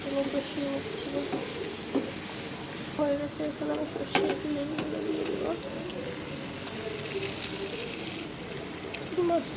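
Hilsa fish frying in plenty of hot oil, a steady hissing sizzle with occasional crackles and faint clinks of utensils throughout.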